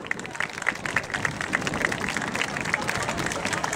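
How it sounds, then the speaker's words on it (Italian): Outdoor crowd applauding at the Erice medieval festival, greeting costumed performers portraying King Frederick III of Aragon and Queen Eleonora; dense, steady clapping from many hands with crowd murmur and some chatter mixed in throughout. "Facciamo un applauso."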